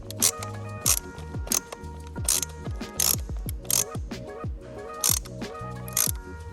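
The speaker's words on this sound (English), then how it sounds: "See, I have to click these in a little more." Carbon fiber steering wheel parts on a 10th-gen Honda Civic click into place, heard as a close, loud series of sharp ratcheting clicks in an uneven rhythm, with no voices.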